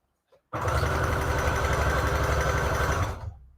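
A sewing machine runs a straight stitch through a thick paper book tag, one steady, loud mechanical whir lasting about three seconds that starts abruptly and trails off as it stops.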